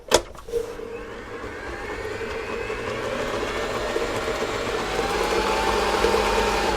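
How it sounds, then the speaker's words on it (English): An electric hand mixer beating old-fashioned all-in-one sprinkle cake batter starts with a click, then runs as a steady, close motor whir that grows slightly louder toward the end. "Back down with the mixer again."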